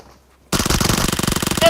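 Uzi gunfire in PUBG Mobile erupts abruptly after a brief quiet moment, a loud, rapid, continuous burst of close machine-gun fire with no talking.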